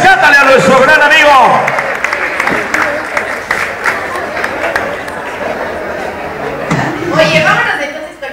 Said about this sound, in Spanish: Un aplauso fuerte para recibir a la guapísima Patricia Evelyn, nuevo talento de Acapulco